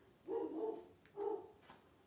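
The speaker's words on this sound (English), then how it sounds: "My dog is barking." A dog barks twice indoors, two short, fairly faint woofs about a second apart, with no talking over them.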